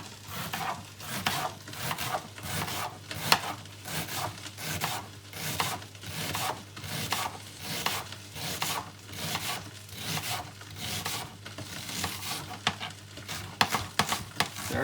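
Potatoes being finely sliced with a knife for Lyonnaise potatoes, a steady rhythm of quick cutting strokes repeating every half second or so, close and continuous, with no talking.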